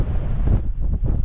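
Wind buffets the microphone in a steady, loud broadband rumble across an open winter moorland hilltop at Round Hill in the North York Moors, with gusts surging and easing throughout and no voices.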